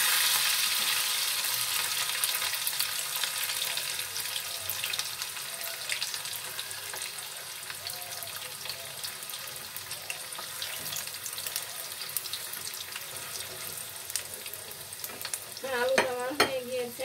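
Potatoes frying in a pan, stirred with a spoon, give a soft steady sizzle with scraping and clinks. Running water from a tap joins in, and a few sharp metallic taps come near the end.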